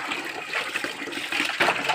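Cold spring water pours and splashes steadily at an outdoor bathing spot near a grotto, a close, dense rushing gurgle with no pauses and no voices.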